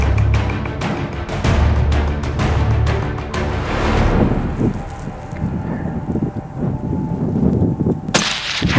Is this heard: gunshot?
yes